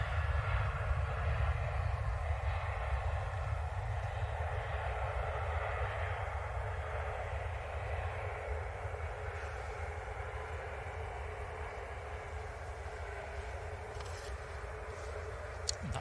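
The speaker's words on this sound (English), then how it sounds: "EasyJet's A321neo just touching down" easyJet Airbus A321neo touching down on runway 23L at Manchester Airport, a low, steady engine rumble heard at a distance, fading slightly as it continues.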